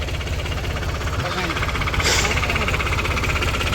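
A stuck tractor's engine runs with a steady, close, knocking low throb, while people talk nearby.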